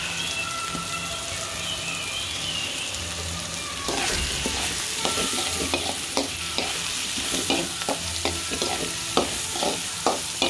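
Chopped onions frying for vegetable fried rice give a steady hiss that swells into louder, crackling sizzling midway, with sharp scraping stirs and spatula knocks, close up, with no talking.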